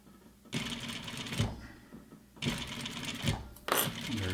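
A sewing machine stitches a lined ladies' jacket sleeve hem in three short, close bursts of rapid mechanical chatter separated by brief pauses, with back-tacking, and no talking.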